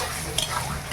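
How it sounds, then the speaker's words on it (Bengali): Ginger and garlic frying in a pan give a close, continuous sizzle with a faint scrape of stirring. "আদা রসুনটা ভাজা হয়ে গেছে,"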